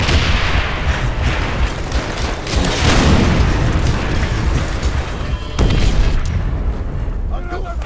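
Explosions and heavy gunfire roar through a World War II tank battle in Call of Duty: World at War, with dense continuous rumble, a big boom near the three-second mark and another around five and a half seconds, under shouted voices.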